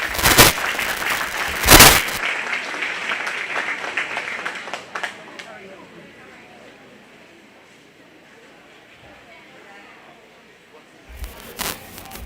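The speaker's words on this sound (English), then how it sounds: "Let's give her a big round of applause." Applause from the audience at a 4-H/FFA youth cattle show breaks out at the start, loud with sharp bursts, then fades over several seconds into a quiet arena hum before another short burst near the end.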